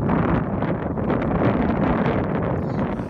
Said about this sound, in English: This windstorm is crazy.